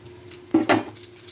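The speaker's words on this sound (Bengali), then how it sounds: "বেগুন ভাজা হইতে সময় লাগে।" Eggplant (brinjal) frying slowly in a pan over a low gas flame, a soft constant sizzle broken by two quick louder clatters, like the pieces being moved or turned.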